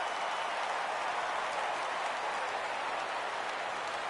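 A baseball video game crowd rises and cheers at a full 3-2 count, a steady, even roar of distant voices that keeps up at moderate level from start to end.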